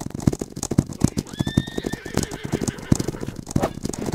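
Horses in a video game whinny once in a long wavering neigh while slow hooves clip-clop in a steady, loud rhythm throughout.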